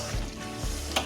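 Beef rendang with jengkol being stirred in a hot pan, a steady close sizzle with a couple of scraping stirs, about a second long with no voices.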